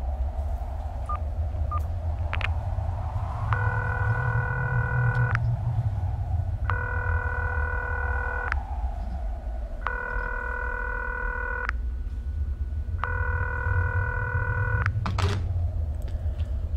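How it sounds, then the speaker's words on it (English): A payphone is dialed in the PS1-style horror game Concluse: four clean, evenly spaced electronic tone bursts, each lasting about two seconds, with soft clicks between them and a low hum underneath. "Sure, I'll make a call. I'm gonna call home again."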